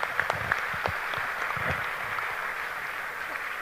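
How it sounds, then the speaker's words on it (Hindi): Audience applause at a company's anniversary celebration, a moderate steady patter of clapping with faint voices mixed in. "तालियां दोस्तों SEP के लिए।"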